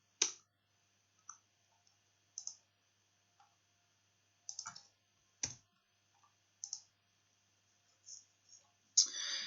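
Computer mouse clicks during a right-click to copy a URL: sparse, sharp, close clicks and small taps scattered over quiet silence, a few in quick pairs, faint and isolated.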